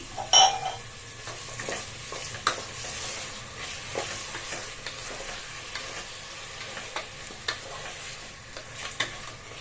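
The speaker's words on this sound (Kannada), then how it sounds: "ಮಟನ್ನ ಎಣ್ಣೆಲಿ ಚೆನ್ನಾಗಿ ಫ್ರೈ ಮಾಡ್ಕೊಂಡಿದ್ವಿ" Meat sizzles steadily in oil while a utensil scrapes and stirs against the pan in occasional knocks.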